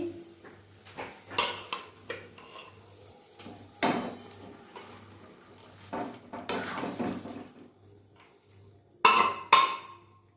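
Boiled dal is poured into a pan of frying spices and stirred, giving intermittent metal spoon clanks and scrapes against the pan, close, with quiet gaps between bursts and a sharper clatter near the end.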